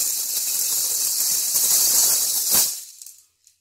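LP M Cohen handmade maracas filled with small seeds give a fine, bright, continuous rattle, then end in one sharp accented shake and a short fading tail, close and alone.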